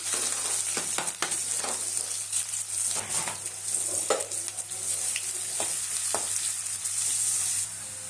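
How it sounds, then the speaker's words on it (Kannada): Small chopped onions and curry leaves frying in a pan, a close, continuous sizzle broken by repeated stirring scrapes and clicks, with no talk. "ಈರುಳ್ಳಿ ಚೆನ್ನಾಗಿ ಫ್ರೈ ಆಗಿದೆ"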